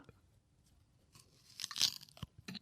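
Someone bites into a crunchy peach and chews. Faint munching gives way to louder, sharp crunches and wet chewing in the second half, close and with no talk.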